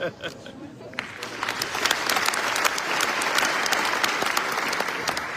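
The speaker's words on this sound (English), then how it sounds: "I would like you to give the same kind of applause to the Moroccan representative on the stage, please." A crowd at the MEDays Forum in Tangier, Morocco breaks into applause. A few scattered claps quickly swell into loud, sustained clapping that carries on to the end.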